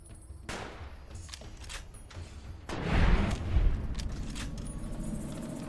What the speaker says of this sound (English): is the hip fire with the anti-material rifle that bad?